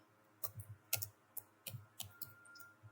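Typing on a computer keyboard while entering an Excel formula, a short run of quiet, irregular key clicks, some in quick doubles, heard close against a faint background hum.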